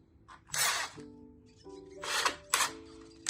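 Screws are driven back into a door hinge, giving short close bursts of scraping and grinding with faint squeaky tones between them, quiet and intermittent.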